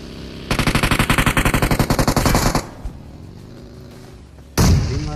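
Rapid, loud burst of MG3 machine gun fire in a mobile shooter game, about two seconds of fast regular shots, then a pause and a short heavy blast near the end.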